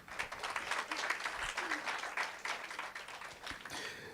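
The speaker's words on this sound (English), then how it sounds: "give yourselves a warm round of applause for looking nice and making the time out of your offices" An office crowd at a mental health charity event gives a warm round of applause, dense steady clapping that carries on for several seconds at moderate distance with a few voices faintly underneath.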